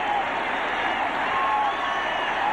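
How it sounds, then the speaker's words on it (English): A dense, steady roar from a large crowd at a 1978 football game between the Steelers and the Bills, loud and continuous, with yelling and scattered clapping blended together. "the crowd beginning to yell as Munson takes off his jacket down below it"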